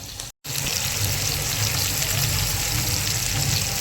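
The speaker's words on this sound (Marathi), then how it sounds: "त्याला मसाला होईपर्यंत भुजून घेते मी" Masala sizzling and roasting in a hot pan on a home stove, a steady dense crackle throughout after a brief cut near the start, close and loud with no voices.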